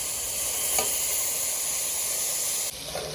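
Tomatoes tipped into onions frying in a pan for a radish poriyal give a steady, close sizzle, with a brief stirring scrape early on and a slight drop in level near the end; no one speaks.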